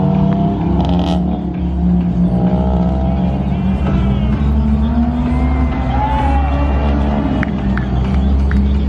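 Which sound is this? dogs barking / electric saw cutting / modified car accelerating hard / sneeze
modified car accelerating hard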